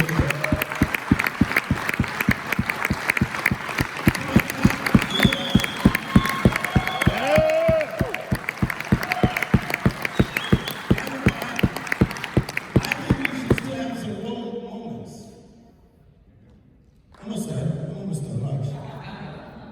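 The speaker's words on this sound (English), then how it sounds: "Clap your hands if you believe that still." A crowd claps rhythmically in unison for over ten seconds at an inspirational talk, loud and close, then fades near the end before noise returns. Cheering mixes in with the clapping.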